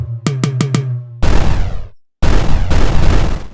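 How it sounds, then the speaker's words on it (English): Explosion samples triggered through a Tone.js sampler: four quick plucked synth tones, then two loud, separate booming blasts with a broad roaring decay and a short silence between them. "Okay, so we have explosion 1, explosion 2."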